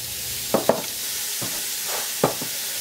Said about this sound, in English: we just want to saute the onions until they start to turn translucent